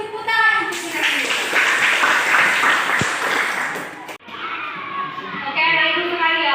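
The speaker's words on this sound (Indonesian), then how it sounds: "Oke, beri tepuk tangan untuk kita semua." Children in a classroom clap together in a dense, lively burst of applause mixed with young voices calling out, briefly dipping before clapping and chatter resume, loud and close throughout.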